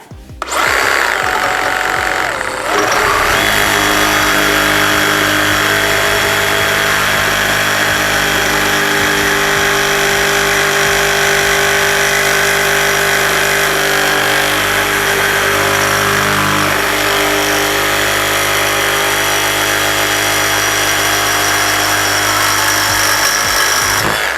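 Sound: DeWALT DCS382N cordless reciprocating saw cutting 5 mm steel angle

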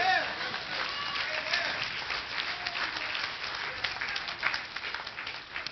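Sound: congregation hand clapping

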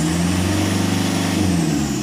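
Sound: car engine revving to 2000-2500 RPM during alternator test

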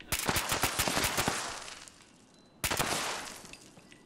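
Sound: explosive weapon gunfire from the video game Fallout 76

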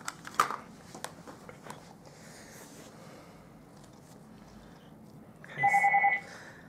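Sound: phone ringing

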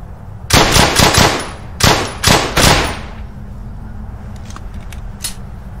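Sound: machine gun fire in the video game Brothers in Arms Hell's Highway

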